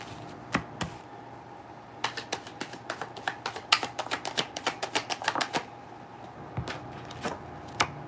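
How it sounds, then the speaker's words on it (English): Tarot cards being shuffled by hand, close and quiet: a run of sharp snapping riffles and taps in quick bursts, some isolated and some clustered, over a low steady room hum. "I'm going to shuffle these a little bit more."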